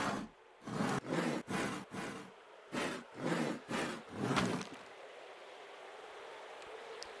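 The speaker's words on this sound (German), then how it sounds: "Jetzt hier ein bisschen sägen." Wood being sawed in the farming game Farmers Life: about eight steady back-and-forth rasping strokes, close and clear, then they stop and leave a faint background hiss.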